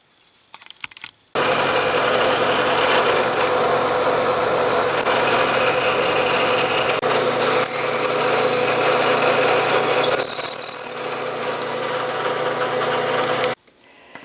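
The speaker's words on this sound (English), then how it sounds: "I'm going to drill very deep into the wood." A power drill whines continuously for about twelve seconds, its pitch shifting slightly as it bores into wood, then stops abruptly.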